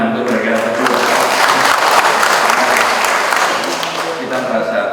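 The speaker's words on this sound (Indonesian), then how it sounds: "Tepuk tangan untuk mereka berdua" A crowd gives loud, sustained applause for two military guests at a governor's coffee morning event. The clapping is dense and near, and it eases slightly toward the end while a voice speaks faintly underneath.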